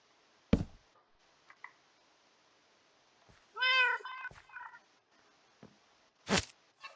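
A single clear cat meow from Minecraft rises out of near silence, with a few scattered clicks and thumps before and after.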